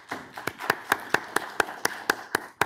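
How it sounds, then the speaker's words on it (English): Sparse, evenly spaced handclaps, roughly one or two people clapping about a dozen sharp claps in a steady rhythm, close and fairly loud, after a conference talk rather than a full crowd's applause. "Let's give a round of applause."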